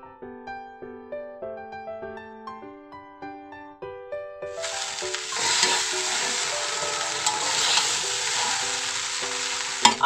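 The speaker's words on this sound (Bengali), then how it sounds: "আর আছে গোলমরিচের গুঁড়ো আবার ভালোভাবে নাড়তে হবে" A melodic tune plays alone at first, then jeera rice seasoned with salt and pepper is stirred in a pan, bringing a steady, fairly loud hiss with scraping that runs to the end.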